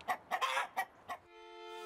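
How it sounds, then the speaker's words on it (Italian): Rooster clucking in a quick run of five short, close, raspy bursts, followed by a faint sustained tone. "Un gallo si pente dei torti commessi in passato."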